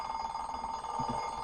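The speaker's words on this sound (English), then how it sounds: "of course it's the sound of the alarm clock" An alarm clock rings steadily and continuously, a bright sustained electronic tone at even volume, heard alone without talk for a short stretch.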